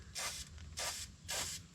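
Aerosol chain lube sprays onto a Nighthawk 750 motorcycle chain in three short hissing bursts, each lasting about a third of a second, with brief pauses between them, close and fairly soft.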